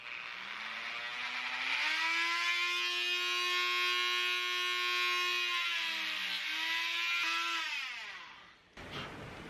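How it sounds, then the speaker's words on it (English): A Dremel rotary tool whines steadily at high speed as it tries to cut through a pipe, its pitch rising and dipping under load before it shuts off near the end. "So I've got the Dremel here. We'll see if that's gonna work"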